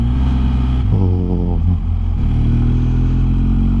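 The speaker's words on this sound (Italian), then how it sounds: "Devo dire che ha anche un buon freno motore che quando la moto è carica non guasta mai" A loaded motorcycle engine-braking on a winding road near a volcano in Sicily, a loud steady drone with shifting harmonics as the revs drop, wind rush throughout.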